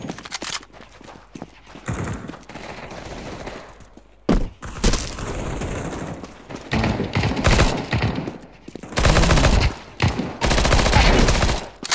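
Counter-Strike 2 deathmatch gunfire on the Dust 2 map: repeated loud bursts of rapid rifle shots with short gaps between them, and footsteps faintly audible underneath.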